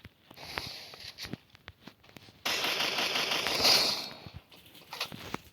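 Gunshots in a shooting video game: scattered single sharp cracks early on, then a louder sustained burst of rapid fire mid-way, with fainter shots trailing off afterward.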